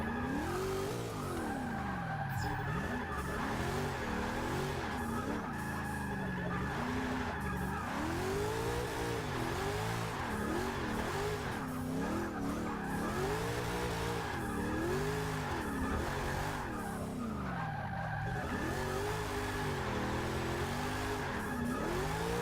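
A 1965 Ford Mustang racing a lap in Forza Motorsport 6, its engine revving up and down through gear changes with steady tire squeal and skidding through corners, loud and continuous throughout.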